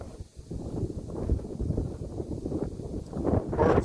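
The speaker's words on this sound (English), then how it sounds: "Hopefully the wind isn't blowing too bad in the microphone." Gusty wind buffets an outdoor microphone during a walk, a steady low rumble swelling and easing throughout, with a harder burst near the end.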